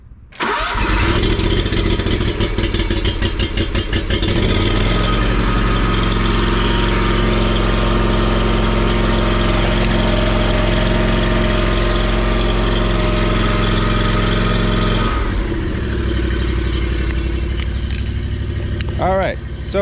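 Small gasoline engine of a landscaping machine starting on a jump pack with the choke on, then idling loudly and steadily close by before dropping to a lower, rougher idle near the end.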